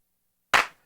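A single drum machine clap hit, tuned to a different pitch as a variation on the backbeat, lands sharply after silence and decays quickly.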